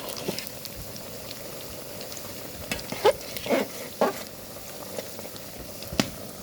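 A bottle gourd curry with rohu fish cooks in a pan, giving a continuous soft bubbling and frying hiss, with a few louder stirring clatters near the middle and end.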